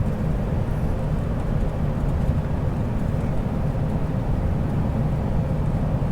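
A 2001 Chevy Suburban 2500 LT with the 8.1L V8 and 4x4 cruises at 55 mph, giving a steady, even low road-and-engine rumble with no talking.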